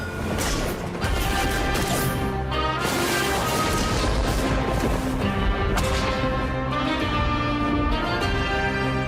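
Explosions and crashes from the Wild West video game Smoke and Thunder, heavy booming impacts and smashing hits repeated over a dense, loud game soundtrack with sharp whooshes, no talk.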